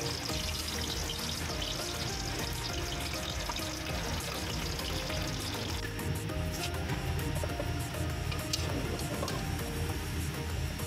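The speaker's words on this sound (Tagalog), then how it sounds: "I-fried lang po muna natin ang ating squid balls." Squid balls fry in hot oil, a dense, loud, continuous sizzle with crackling spits that runs the whole time.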